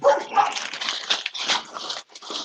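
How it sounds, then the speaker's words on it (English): A dog barks and yips in rapid, scratchy bursts with a few whimpering notes, fairly close, with no talking. "Whose dog was barking?"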